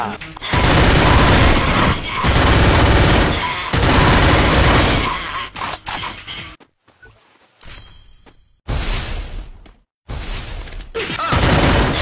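Bursts of rapid gunfire in the Garena Free Fire video game, loud sustained volleys separated by short quiet gaps, up close with some voice mixed in.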